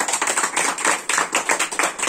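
Audience clapping in welcome for a guest at an education discussion event, a dense burst of many hands clapping in uneven pulses, loud and close, with no talk over it.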